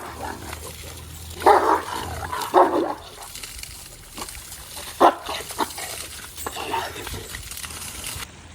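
A dog makes a few short, rough vocal bursts while being shampooed in a bath, over running water and splashing, close by, with low growl-like grumbles in between.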